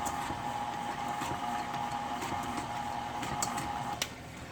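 Key lime cake ingredients being mixed together, heard as a steady mechanical whirring drone with faint ticking that runs throughout and drops slightly in level just before the end.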